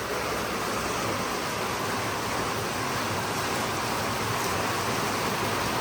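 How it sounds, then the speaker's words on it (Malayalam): Heavy rain pouring down steadily, a dense, unbroken hiss that stays loud and even from start to finish with no voices. "ഇവിടെ അതാ ഗംഭീര മഴയാ"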